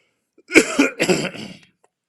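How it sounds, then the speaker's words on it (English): A man coughs twice in quick succession, the bursts harsh and close to the microphone, with a short throat-clearing trail and silence before and after. "Let me cough, hold on."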